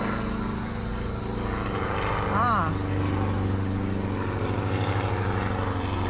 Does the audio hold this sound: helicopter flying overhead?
yes